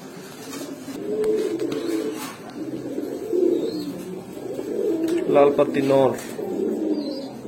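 A red-feathered male pigeon coos repeatedly in close, soft rumbling calls, with someone talking over and between them.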